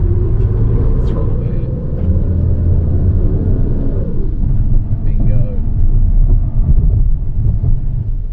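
A medium SUV's engine drones loudly under throttle while its wheels work against traction rollers in an off-road test, a steady low rumble with wind buffeting throughout and a voice briefly speaking.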